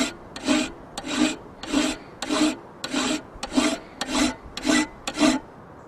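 A file rasps across the bevel of a steel knife blade being made from an old file, in nine even back-and-forth strokes about two-thirds of a second apart, close and clear with no talk.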